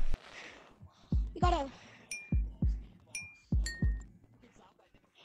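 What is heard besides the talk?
heartbeat noise in the video game Capuchin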